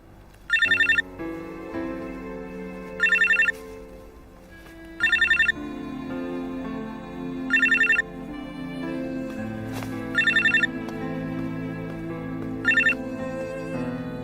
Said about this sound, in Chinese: 你电话。